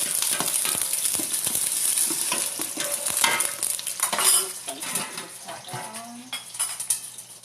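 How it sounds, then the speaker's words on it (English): Onions frying in hot oil in a home kitchen, a soft sizzle under frequent close clinks and scrapes of a utensil stirring against the pan. "since I hear my oil getting hot, I'm going to actually put my onions in"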